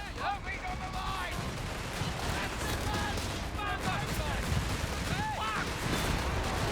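Dense rattle of small-arms fire and explosions in Company of Heroes 3, a WWII strategy game, in a 2v2 match of US and UK forces against Wehrmacht. A steady mid-distance battle din under brief radio-style voice callouts.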